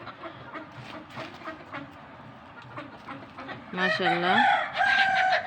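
Chickens cluck steadily in the background while a rooster crows loudly twice near the end, with a brief spoken word in between.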